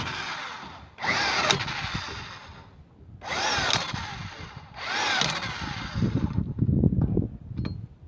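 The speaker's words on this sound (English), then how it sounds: "I'm not going to torque it down at this because this electric impact gun goes to 160" An electric impact gun rated to 160 foot-pounds, tightening the lug nuts on a wheel during a flat tire change, fires in three loud rattling bursts of about a second or more, then short clicking taps as each nut seats.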